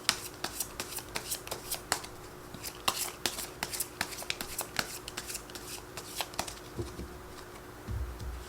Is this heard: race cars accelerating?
no